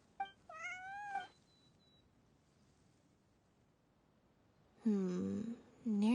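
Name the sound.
cat meowing in the video game Genshin Impact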